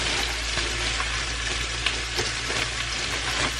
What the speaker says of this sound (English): I know there's a lot of sizzling going on